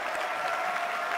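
Audience applause for the Dota 2 Boston Major champions at an esports event, a dense, steady patter of many hands clapping through the whole short stretch with no voices on top.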